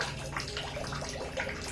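A household water tap trickles only a thin flow during a long dry season in Duren Sawit, a faint, steady watery patter that continues without a break.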